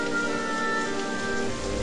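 Steady rain falls on a hard surface as a sound effect in a narrated story, making a dense, even hiss that stays loud and close from start to finish, with no voices.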